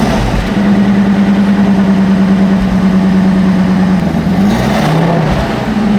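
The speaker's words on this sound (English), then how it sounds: "I'm gonna give you guys a sound test of what it sounds like now. That way we can compare a stock exhaust to this new one." A Ford F250 V10 pickup on its stock exhaust idles with a steady low rumble, then revs up and back down near the end, loud and close with no talking.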